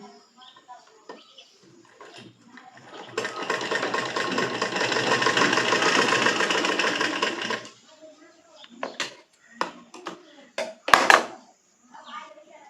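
A sewing machine runs steadily for about four seconds while stitching tucks into the katori cup of a blouse, with a dense mechanical whir. It is followed by faint handling clicks, taps and brief rustles.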